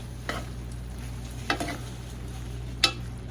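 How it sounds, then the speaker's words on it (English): Ground turkey chili with paprika being stirred in a pot, heard as three brief scraping strokes spaced apart over a low steady background hum, fairly quiet and close, with no talking. "so I put a little paprika on it for the color and for the flavor. So, and stir it together."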